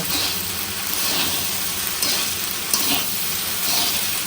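Meat and tomato frying in oil, stirred in a pan in a home kitchen, giving a loud continuous sizzle and hiss with periodic scraping swells from the stirring.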